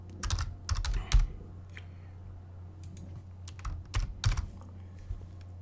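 A computer keyboard being typed on to enter a job name, in short bursts of rapid clicky keystrokes separated by pauses, close and clear with no talking.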